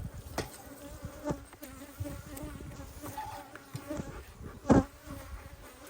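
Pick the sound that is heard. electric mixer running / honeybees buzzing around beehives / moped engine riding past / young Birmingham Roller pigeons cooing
honeybees buzzing around beehives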